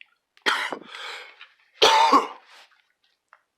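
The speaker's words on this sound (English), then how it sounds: "I always start coughing or sneezing or something up here." Two bouts of harsh coughing close to the mic, each a quick cluster of throaty coughs, separated by a pause and followed by near silence.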